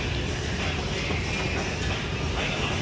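Riding inside a subway train in Korea, a loud, steady rumbling roar fills the car with faint rhythmic clicks over the track, heard close and continuous.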